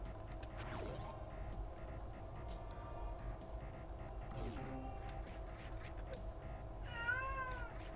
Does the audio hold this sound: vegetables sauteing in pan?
no